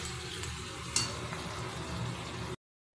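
Prawns sizzle and fry in an oily pan for chow mein, a steady crackling hiss with a faint clink partway through, ending abruptly.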